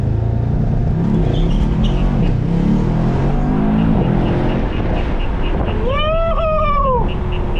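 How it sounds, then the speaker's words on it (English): A lowered Mercedes E63S launches from a standstill and accelerates hard, its loud engine roar climbing in pitch and rising into a high whine and chirping squeals near the end as the wheels spin. "I got y'all with a launch, because every video we gotta do a launch"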